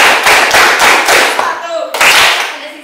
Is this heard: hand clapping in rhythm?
yes